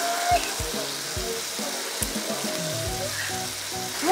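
Steady sizzling of thick noodles and egg frying on a hot plate, a constant crackling hiss with faint clinks and low knocks scattered throughout.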